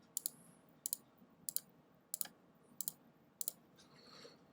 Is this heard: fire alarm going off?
no